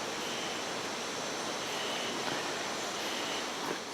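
Jungle river in the Ecuadorian Amazon, a continuous broad rushing wash of flowing water, steady and fairly close, with no voices.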